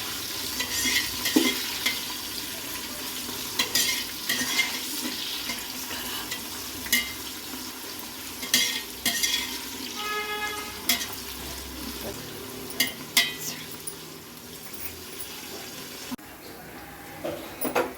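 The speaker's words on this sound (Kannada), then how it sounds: "ಈರುಳ್ಳಿ ಚೆನ್ನಾಗಿ ಫ್ರೈ ಆಗೈತೆ" Onions for chicken biryani fry in a pan with a constant low sizzle, while a spatula scrapes and taps against the pan at irregular moments throughout.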